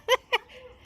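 A chocolate Labrador retriever puppy gives two short, high yips in quick succession, followed by a faint, thin whimper in a quiet room.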